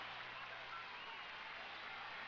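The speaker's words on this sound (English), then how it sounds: "Crowd going crazy here." A marathon finish-line crowd cheers in a steady, dense roar that holds evenly throughout, with no distinct voices standing out.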